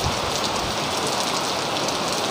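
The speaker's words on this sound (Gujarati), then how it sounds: "વરસાદ ધમધોકાર ચાલુ હે" Heavy rain pouring down in the Gir countryside during a downpour over farmland, a dense, steady hiss that stays loud and unbroken throughout with no voices.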